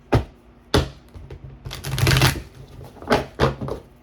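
Tarot cards are shuffled by hand up close, giving sharp riffling bursts and soft papery slides in an uneven rhythm, with no talking.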